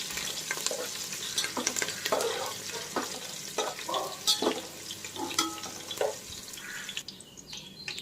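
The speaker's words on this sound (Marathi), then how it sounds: "आता मिरच्या घालते मी मिरच्या देखील चांगल्या तळायच्या आहेत" Green chillies and curry leaves fry in oil for a poha chivda, a close crackling sizzle with lively spoon stirring and scraping, loud and uneven, easing off near the end.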